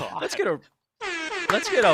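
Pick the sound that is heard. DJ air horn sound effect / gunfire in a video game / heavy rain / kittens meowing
DJ air horn sound effect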